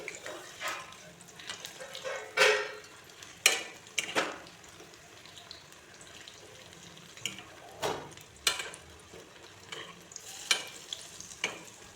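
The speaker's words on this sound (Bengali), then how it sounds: "গ্যাসের ফ্লেমটাকে কমিয়ে ভাজতে হবে, নইলে ওগুলো পুড়ে যাবে।" Stuffed pointed gourd (kakrol) frying on low gas flame in a pan: a faint steady sizzle broken by scattered, sharper clinks and scrapes of stirring, quiet and close, with no talk.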